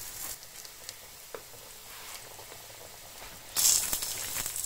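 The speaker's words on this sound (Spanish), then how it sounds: "Ya tenemos nuestro bacalao rebozado y lo vamos a echar en una sartén con el aceite" Battered cod fries in oil in a pan at medium-high heat, giving a soft, steady crackling sizzle with scattered pops and a louder burst of spitting near the end.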